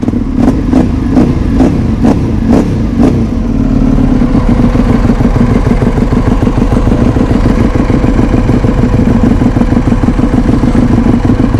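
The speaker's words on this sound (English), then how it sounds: "That V-twin motor produces a lot of back pressure, as you can feel it coming from back there." EBR 1190RX V-twin sport motorcycle idling at low RPM at an outdoor bike night, a loud close throbbing exhaust with a few sharp blips of throttle at first, then a steady rumbling idle.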